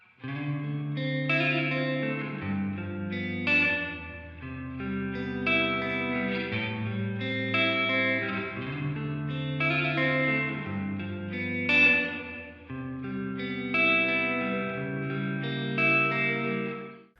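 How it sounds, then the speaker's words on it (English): An electric guitar played through Logic Pro's spring reverb plays chords and melodic lines, with a wet, splashy, echoing tail that lingers behind each phrase. "let's hear it in action with some spring reverb on an electric guitar"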